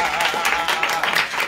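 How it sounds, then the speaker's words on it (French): Audience applause at a comedy event, a brief, moderately loud burst of mixed clapping with some crowd noise and voices underneath. "Applaudis."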